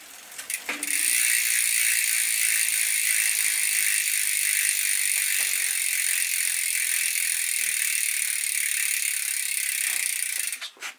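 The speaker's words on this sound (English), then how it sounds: "lift the back wheel up a little bit and spin the wheel forward" The rear wheel of a Trek Roscoe mountain bike spins freely on a freshly lubricated chain, giving a steady fast ticking freewheel ratchet, close and even, for about ten seconds with no talk.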